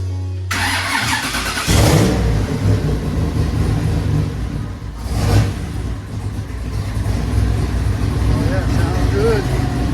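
A turbocharged car engine starting up, a cranking catch and then a rough running rumble, revved loudly twice with rising and falling swells, close by, with people talking around it.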